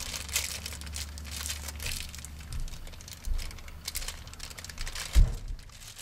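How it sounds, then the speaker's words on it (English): Close, loud crinkling and tearing of plastic packaging as a camera cable connector is pulled free, with a series of rustles and one sharp thump near the end. "It's sealed in plastic. Let's take that out."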